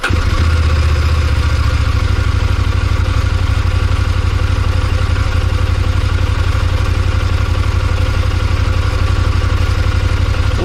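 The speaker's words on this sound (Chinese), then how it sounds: "下面我们点火来听一下声音。" A 2026 CFMOTO 1000MT-X motorcycle engine, already warmed up, idles at about 1500 rpm with a steady, close, throbbing rumble that holds evenly throughout, with no talk over it.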